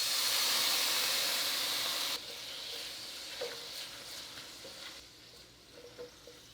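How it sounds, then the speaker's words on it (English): Cognac hits a hot pan after pork chops are seared, letting out a strong steamy hiss that cuts off sharply after about two seconds. A quieter bubbling sizzle with a few light clinks follows. "I'm gonna take 2 tablespoons of cognac"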